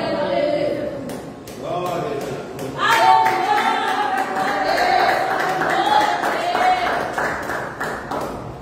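Church congregation clapping along during a Portuguese-language evangelical service, steady rhythmic hand claps under singing voices and music, with a louder swell partway through.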